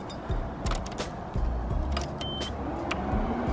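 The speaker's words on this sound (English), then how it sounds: "Power windows, guys." Power windows on a Nissan 180SX whir as the glass moves, a steady electric motor hum inside the car alongside clicks and small cabin knocks, heard close with no talking.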